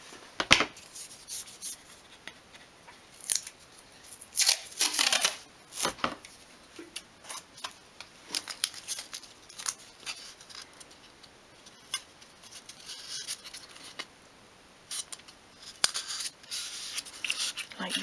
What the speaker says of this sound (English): I'm just going to apply a bit of masking tape across the top.